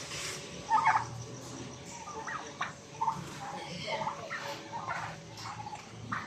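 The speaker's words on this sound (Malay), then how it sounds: "Wah, ayam Belanda dia besar." A large turkey at an animal park gives several short gobbling calls, fairly faint and spread across the moment, over background chatter and ambient noise.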